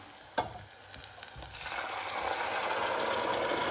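Onions frying in a pan at a mountain campsite, a steady close sizzle that swells louder after a few clattering knocks of stirring.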